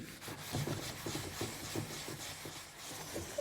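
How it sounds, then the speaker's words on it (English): Abrasive sponge rubbed gently over screws on old furniture being restyled, a soft rhythmic scrubbing with repeated short strokes, close and steady under a faint background hiss. "take this little abrasive sponge and do this on this part here, and do it gently"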